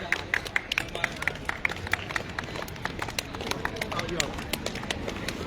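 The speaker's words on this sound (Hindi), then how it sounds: "जोरदार तालियों से स्वागत करिए आप मुख्य अतिथि महोदय का।" Crowd clapping for the chief guest at a kabaddi league match in Rampur Bushahr, a busy outdoor mix of sharp scattered claps over steady crowd noise, with a voice over a loudspeaker.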